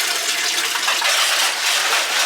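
Cold water gushing steadily into a washing machine as it fills, a loud continuous rushing hiss with no breaks.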